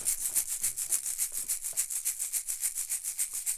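Banakulas, also called asalato, shaken in a steady rhythm, giving a fast, evenly pulsing bright rattle of seeds inside small gourds, soft and close with no voices.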